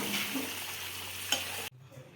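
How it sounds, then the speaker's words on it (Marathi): Cooked moth beans stirred into masala in a pan, a continuous sizzle with scraping spoon strokes and a light clink before the sound cuts off. "तर यामध्ये आपण आता शिजलेली मटकी टाकूया आता आपण मिक्स करून घेऊया"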